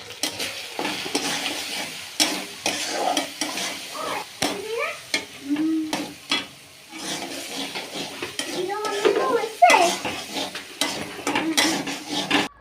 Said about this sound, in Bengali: এদিকে দেখুন পেঁয়াজ কুচি আর বেটে রাখা মশলা ভালো করে ভেজে নিছি।